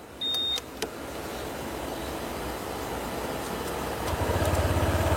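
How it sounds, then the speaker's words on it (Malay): A Honda Vario 125 scooter engine idles quietly and smoothly at close range, a soft steady hum that rises slightly near the end, with a short click near the start. "Kita dengarkan bunyi daripada Vario 125."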